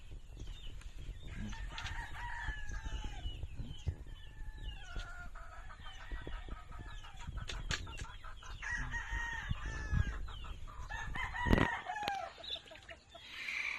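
Gamefowl roosters on a farm near Mt. Canlaon crow repeatedly, several birds overlapping at different distances, with clucks and scattered clicks between the long calls.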